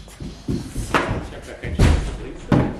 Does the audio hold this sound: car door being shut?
yes